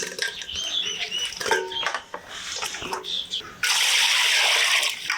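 Chopped mutton being washed by hand in a basin of water, with splashing and sloshing, a brief pause, then a louder, steady rush of running water toward the end.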